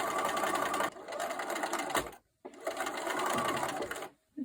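A sewing machine runs in two steady bursts, stitching a quilt block for a Midnight Star sampler, each run a fast continuous hum that stops abruptly with a short pause between.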